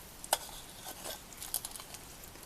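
Carrots dropped into a pan of steak and its leftover fats give a sharp clack followed by light, scattered sizzling and a few soft stirring taps, close and fairly quiet with no talking.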